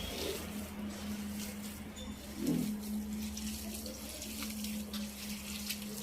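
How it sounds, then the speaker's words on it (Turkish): Water pours into a bowl while padırık, a regional dish, is being prepared, a soft faint trickle with a brief splash partway through, heard alone. "Yenge suyu döker misin sen bana?"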